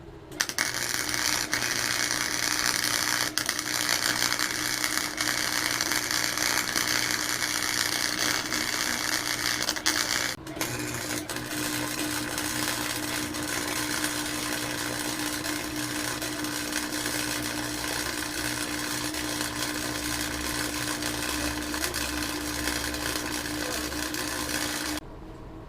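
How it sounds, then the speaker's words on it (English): A wire welder runs with Lincoln welding wire during a small red racer build, giving a loud, steady buzzing crackle that continues without a break, changing tone once partway through. "we're gonna put it in the wire welder, and we're gonna do some welding again"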